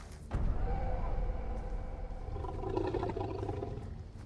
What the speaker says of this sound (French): C'est un ours.